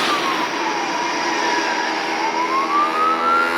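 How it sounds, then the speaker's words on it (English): Emergency vehicle sirens wail steadily in a harbour setting after a disaster, a continuous rising and falling tone that stays loud across the whole stretch with a constant rumble of traffic or machinery beneath. "There were sirens blaring across."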